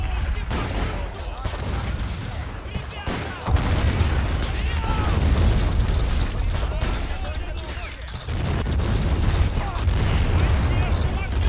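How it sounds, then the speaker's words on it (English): Artillery bombardment in a Crimean War video game battle at Sevastopol: a dense, continuous barrage of booms and crackling volleys filling the scene, with someone talking throughout. "The artillery is just devastating."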